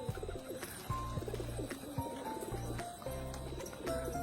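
Male pigeon, a feather-footed domestic breed, cooing in a loft with other pigeons, low repeated coos in steady rhythm, close and moderately loud, with faint rustling and other birds in the background.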